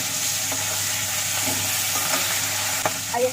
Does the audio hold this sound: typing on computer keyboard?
no